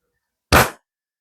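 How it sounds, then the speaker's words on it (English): A single sharp report comes from the first shot of a new budget rifle. It is one short, loud crack that ends quickly, with silence before and after. "this is the very first shot with this gun"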